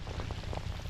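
Heavy rain pours steadily at a roadside trapping spot, a dense continuous hiss with soft drumming on surfaces throughout, loud and close with no voices.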